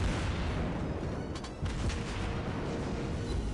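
Battleship secondary guns firing in a naval combat video game, a dense steady roar of overlapping booms and rumble with a brief dip midway, continuous and loud throughout.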